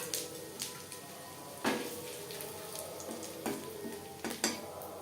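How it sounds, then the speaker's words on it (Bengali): Panch phoron and bay leaf fry in oil left from frying fish, giving a constant soft sizzle and crackle with several sharp utensil scrapes and clinks against the pan. "মাছ ভেজে নেওয়া তেলে ফোড়নে দিয়ে দেব পাঁচফোড়ন আর তেজপাতা।"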